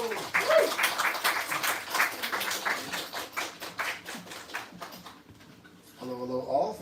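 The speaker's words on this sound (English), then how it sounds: "Keep that applause going for Beth McDonald." Steady applause from an audience, a dense patter of claps that thins out near the end before a voice begins speaking.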